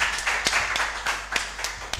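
A small audience at a children's mental arithmetic competition claps briefly and sparsely, with a few distinct hand claps standing out over a soft, thin wash of applause.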